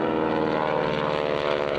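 A propeller-driven aerobatic airplane performs at a 2004 air force base open house airshow, its engine a loud, steady, close droning roar with no talk over it.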